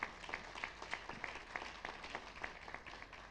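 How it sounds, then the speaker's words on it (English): Audience clapping at a national forum on reparations, faint and distant, with a steady rhythmic beat of claps rather than a full roar. "Give them all a big round of applause."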